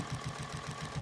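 A sewing machine stitches down quilt binding in a quick, even run of rhythmic pulses, faint and brief, with no voices.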